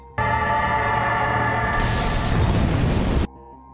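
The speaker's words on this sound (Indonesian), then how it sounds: "ternyata yang meledak adalah mobil anak buah Jack" A car bomb explodes in a Peaky Blinders film scene: a sudden loud blast starts almost at once, swells into a roaring, crackling burst with debris noise, then cuts off abruptly.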